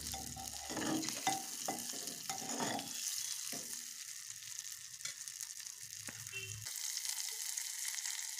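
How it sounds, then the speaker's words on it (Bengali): Beaten eggs seasoned with a little turmeric sizzle and crackle in a hot pan while being stirred, with scraping and clicking stirs over a steady frying hiss and no talking. "এখন ডিমগুলো ভালো মতন ভেজে নেব লাল লাল করে।"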